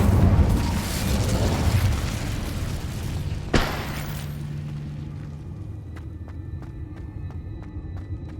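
Fire spell Incendio cast in Hogwarts Legacy, a rushing, roaring burst that fades, then a sharp crack partway through, followed by a lingering low hum and faint rhythmic ticking.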